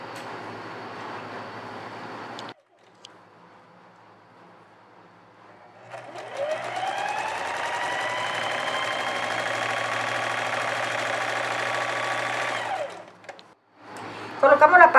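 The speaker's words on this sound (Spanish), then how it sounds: "Vamos a realizar costura con overlock también de este lado." An overlock serger sews a seam along the side of a blouse top, running in one sustained, close, loud whir for about six seconds after a quieter stretch, with faint handling noises around it.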